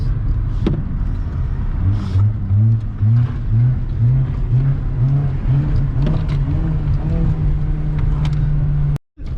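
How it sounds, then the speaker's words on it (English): Car engine revving repeatedly in rhythmic bursts at a go-kart or fun track, loud and close, with the pitch rising and falling, then cutting out abruptly near the end. "Got some good revs."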